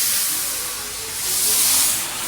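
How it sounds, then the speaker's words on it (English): A light rub by hand over the first coat of lacquer on a wooden table during varnishing, heard as a steady, close, hissing brush of abrasive on the finish that swells and eases with each slow stroke. "And just a very light rub over the first coat of lacquer."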